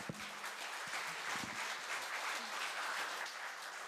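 Applause from the audience at a Korea University graduate school of labor studies awards evening, a steady wash of many hands clapping, close and sustained for several seconds, with no one speaking.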